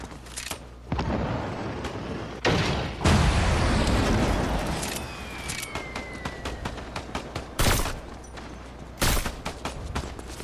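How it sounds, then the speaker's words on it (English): Gunfire rings out in a video game firefight, with bursts of shots and heavy booming blasts, some loud and close and others more distant, plus sharp single cracks scattered across the scene and no talk. "I hear people this way and I see them shooting."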